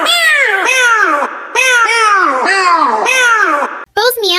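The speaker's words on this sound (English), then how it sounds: "Both meow sounds are so catchy" A cartoonish cat meows from the video game Sprunki over and over in quick, rhythmic succession, bright and close, ending with a short higher-pitched squeaky call.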